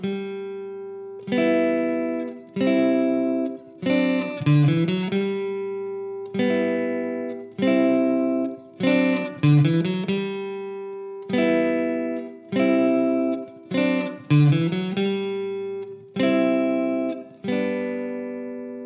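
Acoustic guitar strumming the second verse of a song in a relaxed rhythm of chord changes, close and clear, with no voice over it.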